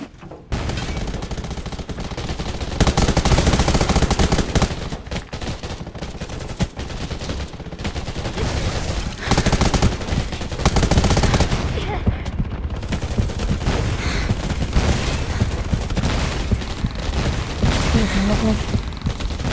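Gunfire in the online survival shooter Undawn, dense bursts and rapid volleys running loud and continuous throughout, with a player's voice talking over the shooting at times.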